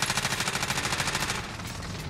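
Rapid automatic gunfire in Call of Duty: Modern Warfare rattles off in a steady, loud burst of closely spaced shots before easing into a softer, denser patter of fire.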